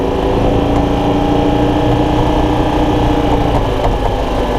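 A 1993 Club Car DS golf cart engine runs steadily and loudly throughout, a continuous close mechanical drone with no pauses and no voices.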